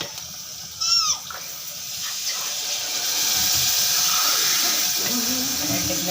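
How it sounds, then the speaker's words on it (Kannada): Two glasses of water pour into a cooking pot of spiced powder and chutney mix, building from a brief splash into a steady, rushing hiss that holds to the end. "ಒಂಜಿ 2 ಗ್ಲಾಸ್ ನೀರು ಪಾಡು"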